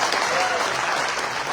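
An audience at a business seminar applauds Dr. Anand Vajpayee with loud, dense, continuous clapping that fills the whole moment without a break.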